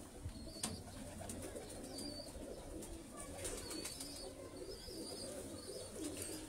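Pet pigeons cooing faintly amid a busy background of bird calls and chirps, several soft low coos spread across a distant, quiet scene.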